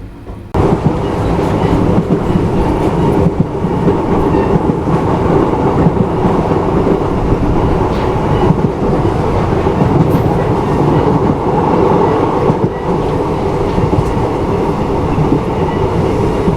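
Passenger train running along the railway line near Barabanki toward Faizabad, a steady loud rumble of wheels and carriages with faint clickety-clack, continuous throughout with no talk.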